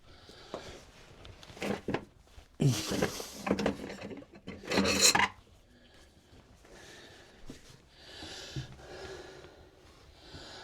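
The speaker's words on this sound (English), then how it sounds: "And give it a flat file just to finish it off." A flat file rasps across wood on a workshop dog gate in a few short bursts of scraping strokes, close and fairly loud, separated by quieter handling noises and breaths.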